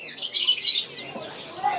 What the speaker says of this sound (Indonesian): Nah, ini ada burung perkutut silver yang jambul ya.